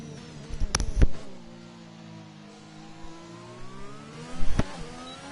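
An Alpine Formula 1 car in F1 2021 at Bahrain drones through its gears in an onboard view, a rising and falling engine whine punctuated by two sharp bursts, near the start and near the end.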